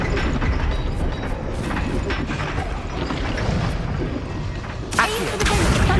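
Explosions from Confringo and Bombarda spells blast in Hogwarts Legacy, a dense, loud rumbling roar of blasts and debris that swells again with a sharp burst near the end, with no voices.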